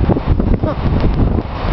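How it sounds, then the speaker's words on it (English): Wind gusts buffet the microphone at the back of a building near a pool, making loud, rumbling low-end roar that rises and falls in uneven bursts. "Oh, it's windy."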